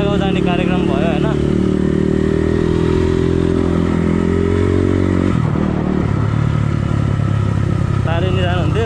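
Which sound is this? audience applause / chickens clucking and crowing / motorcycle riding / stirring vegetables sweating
motorcycle riding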